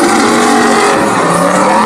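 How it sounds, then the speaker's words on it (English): Race car at a motorsport festival, a twin Garrett turbo build, losing grip before the final apex, its tires squealing in a loud, continuous screech blended with engine roar, close and steady throughout. "The Navigar 7 just does lose grip right here before the final apex."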